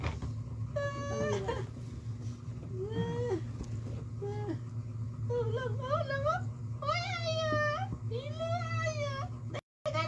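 A cat meows repeatedly, several drawn-out, wavering meows spaced a second or two apart, fairly close, over a steady low background hum.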